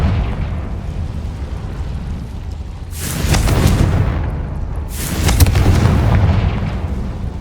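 Two loud, deep Confringo blast spell explosions in the game Hogwarts Legacy, each a sudden boom that rumbles away over a couple of seconds, with a low steady background between them.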